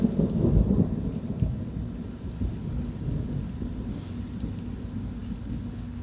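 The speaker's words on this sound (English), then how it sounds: "You can hear the thunderstorm happening right now as we speak." Steady rain pours throughout, with a deep rumble of thunder rolling near the start before fading into the continuous downpour.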